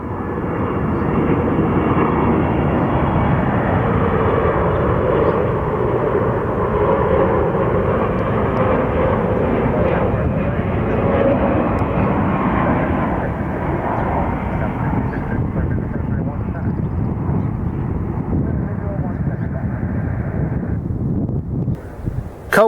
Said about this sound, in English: United Flight 804, it's a 777 inbound from Tokyo.